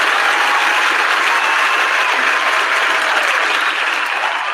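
A crowd at a crypto exchange event claps in a dense, even burst of applause that holds steady for several seconds, with no talk over it.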